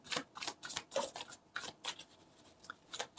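Tarot cards being drawn and shuffled from a deck during a reading, with a quick series of soft papery riffles and slaps, close and fairly quiet.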